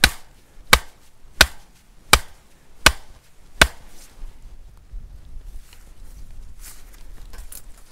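A hammer drives stakes for wire tree cages outdoors on a winter day, landing five sharp, evenly spaced blows close by before the yard falls to a low, quiet hum.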